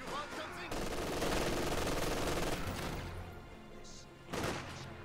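In the World War II strategy game Company of Heroes 2, a machine gun fires a sustained rattling burst amid loud battle din, then tapers off before a final short crack of fire.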